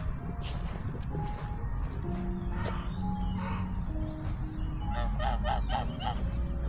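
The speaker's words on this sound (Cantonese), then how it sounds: "呢啲咁白嘅天鵝啊嘛" Several honking calls from white swans ring out at a moderate distance, scattered over steady outdoor background noise, with a quick series near the end.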